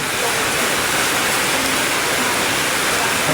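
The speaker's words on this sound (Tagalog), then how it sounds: "Grabe ang lakas ng ulan." Dense, steady roar of heavy rain pouring down in Tondo, Manila, loud and unbroken with no gaps throughout.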